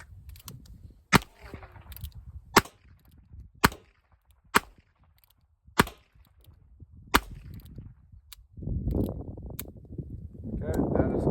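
Several sharp, loud revolver shots fired in a quick-draw drill, spaced about a second and a half apart, ring out one by one before a rustling, noisy stretch closes the sequence.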